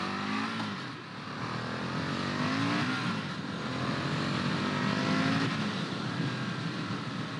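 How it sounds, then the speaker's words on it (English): Exhaust of a 2022 Indian FTR R Carbon motorcycle while riding off, a steady loud engine drone with shifting pitch as it pulls away, mixed with wind rush and no talking. "Let's see what this exhaust sounds like."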